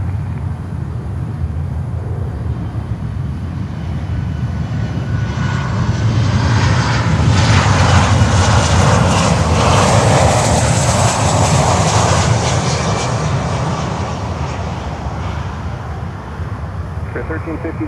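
An American airliner lands on runway 9 at Miami, its jet engine roar swelling loud and broad to a peak midway, then easing off against steady background noise.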